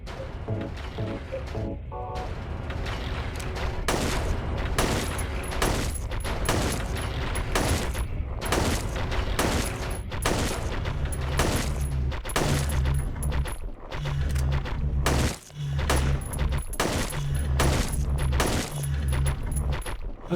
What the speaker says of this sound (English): I guess the shotgun's the best weapon after all